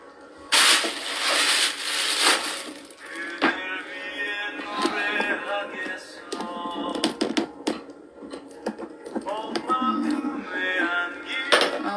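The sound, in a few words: cooking pot being set down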